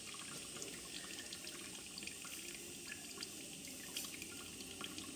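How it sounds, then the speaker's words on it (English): Water runs steadily from an opened valve on a miniature steam locomotive's injector, a continuous close hiss and trickle with faint drips, no voices. "Water valve opened to cool the injector."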